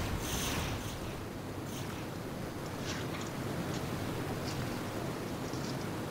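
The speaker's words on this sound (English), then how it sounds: "Now I'm gonna get away from that waterfall because I can't hear anything with it on." Steady rushing roar of a waterfall in the video game Descent 2, loud and continuous throughout with no talk over it.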